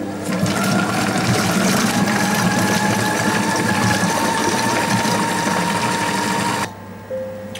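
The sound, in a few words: kitchen robot blending pumpkin and potato purée at speed 4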